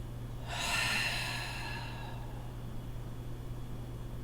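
A single deep exhaled breath during stress-release yoga, a soft airy rush that swells then fades over a second or two against a steady low hum.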